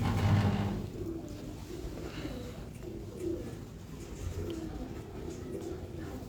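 Racing pigeons coo in low, repeating murmurs at moderate distance on a rooftop loft, steady soft calls overlapping under light background noise.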